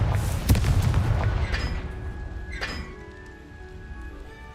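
Confringo explosion spell going off in Hogwarts Legacy, a deep booming blast up front followed by a couple of sharp cracks and a ringing, fading magical shimmer, loud and alone without talk.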